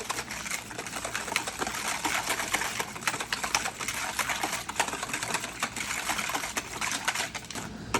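A whisk beats pudding mix into two cups of cold milk in a bowl, giving a fast, steady clicking and swishing that carries on evenly throughout at moderate volume.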